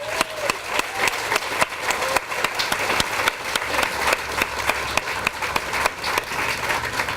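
A crowd applauds at the grand opening of an animal care and adoption center, with sharp, distinct individual claps standing out over a sustained, lively round of clapping.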